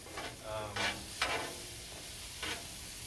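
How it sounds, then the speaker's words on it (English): Beef browns on a griddle at home, a faint steady sizzle broken by several short scraping stirs of a spatula, heard alone at low level. "I'm just browning some beef right now"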